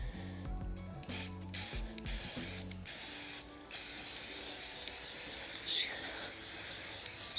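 A tan base coat is spray painted onto a rifle: sharp rattling clicks of a shaken can for a few seconds, then a steady close hiss of spray that runs to the end.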